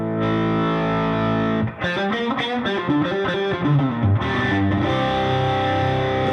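Distorted electric guitar with two 59 Wildwood Spec Tribute humbucker pickups, played live: a sustained chord, then a fast run of bright single notes and bends, loud and alone.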